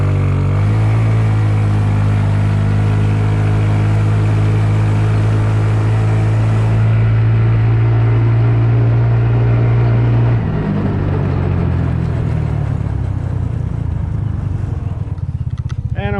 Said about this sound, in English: And I'll do a full throttle run.